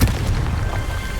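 A Confringo spell explosion in Hogwarts Legacy, a deep booming blast with a rumbling low tail, loud and close, with no talk.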